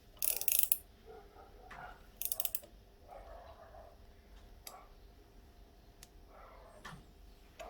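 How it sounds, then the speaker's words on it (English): Ratchet spanner clicking in quick bursts while working on a Suzuki DR200 motorcycle, a couple of sharp rattling runs near the start then fainter scattered clicks against a quiet workshop background. "With a ratchet spanner."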